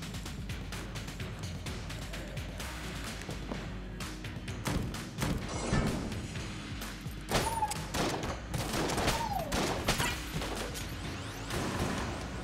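Rapid bursts of gunfire from a turret in the game Enter the Gungeon, a dense fusillade of thumps and cracks with whooshes, swelling louder midway and continuing in clustered volleys, no talking.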